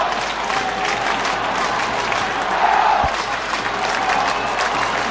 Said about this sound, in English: So the crowd certainly giving vent to their feelings